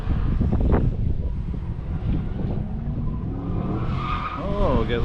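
Car tires squealing as the car slides sideways through a corner at an autocross event, a loud skid over engine noise, with a voice speaking briefly.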